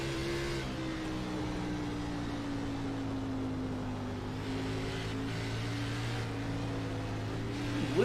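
Race car engines drone in iRacing at the Bristol short track, a steady close-up tonal whine whose pitch sags slowly over several seconds, ending with a brief sharp rise.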